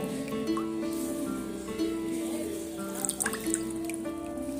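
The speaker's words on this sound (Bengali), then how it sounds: "এইভাবে পানির মধ্যে দিয়ে আর এইভাবে আমি হাত দিয়ে সুন্দর করে নিলে এইভাবে পানিটা বের করে নেব" Bread soaked in water and squeezed out by hand leaves faint drips and trickles of water falling back, scattered over a steady low hum.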